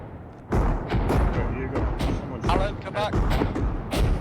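Artillery fire in Arma 3, a series of heavy booming thumps at irregular intervals under ongoing voice chat among players.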